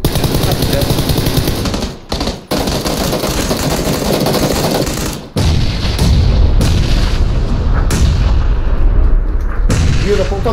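Heavy gunfire and explosions in a squad-based shooter video game, loud continuous automatic fire with booming blasts and brief dropouts, while players talk over the action.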